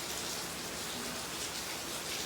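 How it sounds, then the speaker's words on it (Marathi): Heavy monsoon rain pours steadily outdoors, a dense continuous hiss of drops on surfaces with no other sounds or voices. "कालचपासून खूप पाऊस पडतो आहे"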